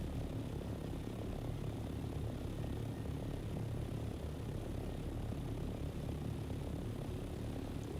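A helicopter flying in the video game Dune: Awakening gives a steady, unbroken rotor-and-engine drone that holds at an even, moderate level throughout, with no speech.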